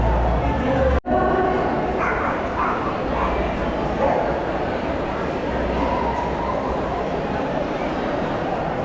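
A small dog barks and yips in quick bursts over a steady, dense wash of crowd noise and background chatter, with people talking nearby in Tenerife.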